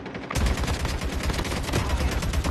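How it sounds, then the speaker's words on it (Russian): Rapid, dense gunfire from the mobile shooter Call of Duty Mobile, with loud bursts and overlapping automatic shots rattling almost continuously after a brief quiet start. "Еще левее, левее стреляй, Давид."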